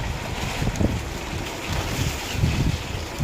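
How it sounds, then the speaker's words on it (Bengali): Stormy gusts blow across a house during a rainstorm, a loud, rough wind rushing and buffeting the microphone without letup for the whole moment, with no one speaking. "পুরো হাওয়া, মানে ঝোড়ো হাওয়া।"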